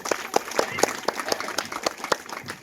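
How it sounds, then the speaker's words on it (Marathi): Rhythmic, evenly paced clapping from an audience at a Shrimad Bhagavat Katha religious gathering in Salapur, steady and fairly close throughout. "सगळ्या व्यासपीठासाठी एकदा सुंदर टाळ्या वाजवा बरं."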